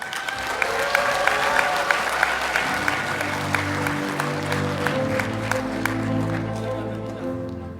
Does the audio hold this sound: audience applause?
yes